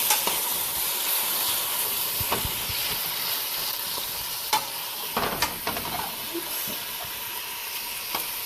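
A Tunisian margaz sauce is stirred after salt, cumin and pepper go in, giving a steady close sizzle and hiss with a few louder scraping strokes of the spoon, and no talk.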